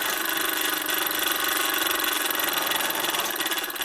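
A Bowman M158 model steam engine running slowly on compressed air, a close, steady chuffing with a quick, even rhythmic pulse and hiss that continues throughout with no voices.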